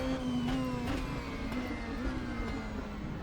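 A DTM 2020 race car engine in RaceRoom, a steady loud drone under acceleration with a rising pitch and gritty, raw texture, heard alone without talk.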